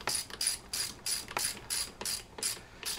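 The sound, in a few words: ratchet tightening fork lower clamp bolt, Honda CL350 motorcycle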